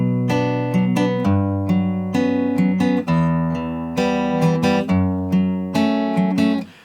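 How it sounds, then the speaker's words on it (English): Acoustic-style guitar plays the backing part of a piece from Clair Obscur: Expedition 33, a steady run of plucked chord notes ringing into one another in an even, repeating rhythm, close and clear with no talking. "So that's just the kind of backing guitar part."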